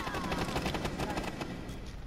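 Rapid bursts of gunfire in a multiplayer shooter video game, a dense, steady crackle of overlapping shots filling the whole moment at moderate loudness.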